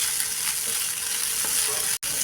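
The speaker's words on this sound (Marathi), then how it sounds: "हा आता जसा खिचडीला परततो तसा मऊ पडेपर्यंत चांगला परतून घ्यायचा आहे" Soaked sago pearls are stirred and sautéed in a pan for sabudana kheer, giving a steady, close sizzling hiss with faint scraping of a spatula, broken by one abrupt instant of silence near the end, with no talking.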